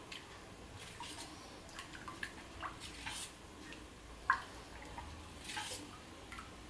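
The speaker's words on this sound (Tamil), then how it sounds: "ஸோ இப்போ நல்லா கலந்து விட்டுக்குவோம்." Soaked rava dosa batter is stirred by hand, giving soft, wet squelching and dripping sounds at a low level in an irregular rhythm, with no talking.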